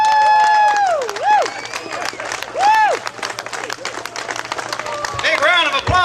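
A crowd at a political rally for Senator Huey Long claps continuously in a dense, loud wash, with cheering and whistles rising above it and babble of voices underneath.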